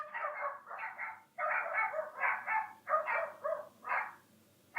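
A neighbour's dogs bark in repeated bursts, several harsh yelps and cries coming in irregular clusters from a short distance with brief gaps between them.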